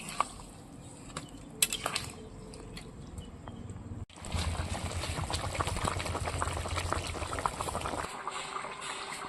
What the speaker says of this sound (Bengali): ব্রোকলি দেওয়ার পরে আরেকটু আমি ফুটিয়ে নিয়েছি